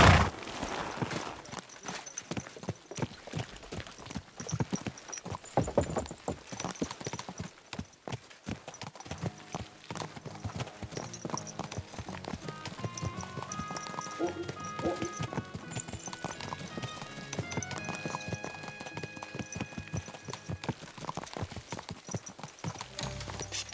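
Horse hooves clip-clop in a steady rhythmic run through the medieval video game Kingdom Come Deliverance II, close and continuous for many seconds, with occasional neighs, game music and brief voices underneath.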